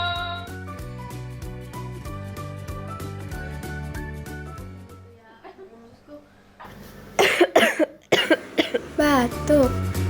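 After a stretch of plinking music, someone coughs several times in harsh, close bursts, mixed with speech-like vocal sounds.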